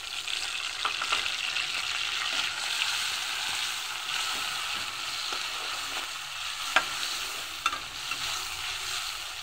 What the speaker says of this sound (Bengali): তো আমি এখানে কাঁচামরিচ, রসুন, শুটকি একসাথে নিয়েছি, সেটা আমি এখন তেলে ছেড়ে দিচ্ছি।